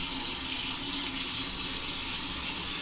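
Water rushes steadily from a computerized toilet flushing in a hotel bathroom in Chongqing, a continuous close hiss and gush with no voices over it.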